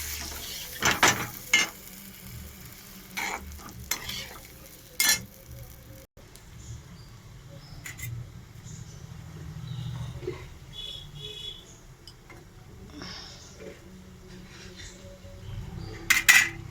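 Spices being sautéed and stirred in a pan with water added, with sharp clinks of a utensil against the pan at the start and end and a soft low sizzle in between, close by and with no talking.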